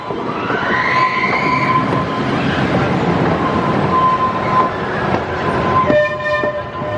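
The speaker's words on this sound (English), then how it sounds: "there's the train on the first launch." A loud, sustained rushing roar of a launched roller coaster train racing along its track at Blackpool Pleasure Beach, with a faint whine rising at the start and a tonal squeal near the end.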